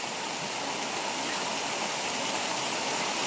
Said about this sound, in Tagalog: Oh, baha na masyado. Lakas ng baha.